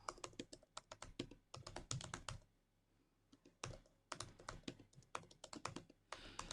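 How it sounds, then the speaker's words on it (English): Quick bursts of keystrokes on a computer keyboard as a password is typed, crisp close clicks in clusters separated by a short pause, otherwise quiet. "Probably not the best thing to do, putting my password in with the camera on the keyboard."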